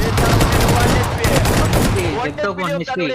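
Rapid gunfire bursts from the mobile battle royale game BGMI, loud and continuous, with dense repeated shots under overlapping commentary.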